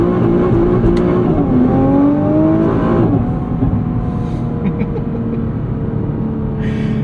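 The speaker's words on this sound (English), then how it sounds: "Let's stop and do a launch while we have the chance here." A 2023 Nissan GT-R's 565hp engine revs up and roars in a launch-control start, the pitch climbing through gear shifts before settling into a loud, steady drone.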